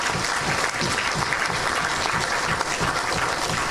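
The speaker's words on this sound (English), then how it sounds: "I want to give those who brought in the firearm a round of applause." A round of applause at a firearm amnesty event in Grenada rises from a gathered audience, steady dense clapping filling the space without a break, loud and close throughout.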